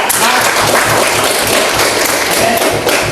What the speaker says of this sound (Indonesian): Luar biasa, tepuk tangan buat kelompok 1 dulu ya.